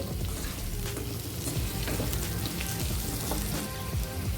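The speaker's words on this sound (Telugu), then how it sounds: "ఉప్పు పసుపు రెండు బాగా కలిసేటట్టు ఇలా కలుపుకోవాలి" Sweet potato pieces with salt and turmeric being mixed in a hot pan: a dense, steady sizzle like rain on a surface, close and constant, with soft stirring scrapes beneath.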